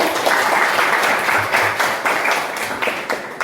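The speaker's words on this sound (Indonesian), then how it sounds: "jadi baik kita kasih tepuk tangan" A classroom full of people claps in steady applause, dense and lively throughout.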